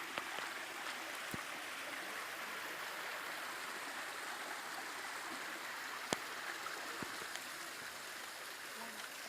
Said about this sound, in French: j'aime le tendre bruit d'une cascade.